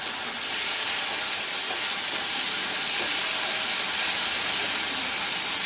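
Ginger-garlic paste sizzling in a pan with chopped tomatoes, a steady, close, broadband frying hiss that holds evenly throughout without talk.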